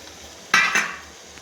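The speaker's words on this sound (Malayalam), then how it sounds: "ഇനി ഇതിലേക്ക് പുളിവെള്ളം ഒഴിച്ച് കൊടുക്കുക." Tamarind water splashes into a hot pan of cooking date pickle sweetened with jaggery, a sudden hissing pour lasting under half a second and then fading, close by with no talking.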